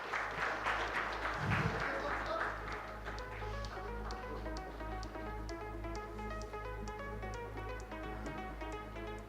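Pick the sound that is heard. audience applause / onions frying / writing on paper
audience applause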